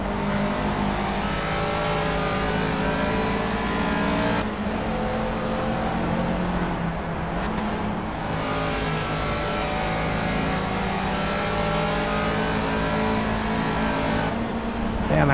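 A Caterham race car engine revs hard and steadily in the Project Cars racing game, a loud continuous motor drone with brief lifts off the throttle around gear shifts, up close throughout.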